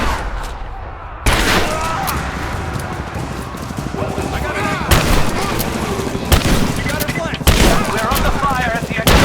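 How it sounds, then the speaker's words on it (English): Gunfire in the Rise of the Tomb Raider video game, with sharp, loud shots bursting out at irregular intervals over continuous background noise, and a voice speaking in between. "We're under fire at the edge of the village."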